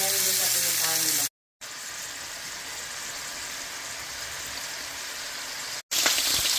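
Potatoes and mushrooms sauté in a pan with a steady hiss and sizzle, briefly cut off twice, and a voice speaks at the start.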